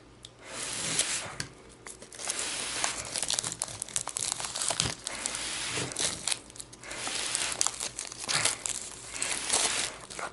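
Plastic shrink-wrap being torn and peeled off a board game box for Le Signe des Anciens – Présage de Glace, loud close crinkling and crackling in continuous bursts for about ten seconds, with no talking.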